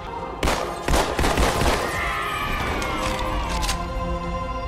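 Turret gunfire in Halo 2 on Cairo Station: a few loud, sharp bursts of shots early, then a rising whine and softer scattered fire continuing behind.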